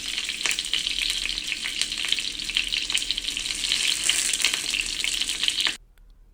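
Whole tomatoes roast in a hot pan on both sides, giving a steady, loud, close crackling sizzle with spatters, until the sound cuts off abruptly near the end.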